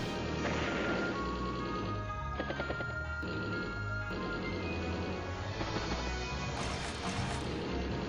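A war tank attacks a medium tank twice in Advance Wars: Days of Ruin, producing a quick series of short thudding impacts set against busy, continuous game music.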